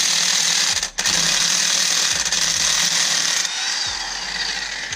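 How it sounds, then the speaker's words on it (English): A cheap Harbor Freight electric impact wrench runs in a loud, close, continuous mechanical clatter, with a rapid hammering rhythm and brief stops and restarts. "And my cheap Harbor Freight electric impact"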